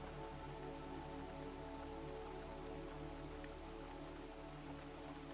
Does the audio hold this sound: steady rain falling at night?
yes